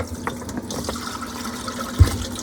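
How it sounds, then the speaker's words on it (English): Plum tomatoes are washed under a running kitchen tap, giving a steady close rush of water with a brief thump near the end. "So right now we're washing the tomatoes."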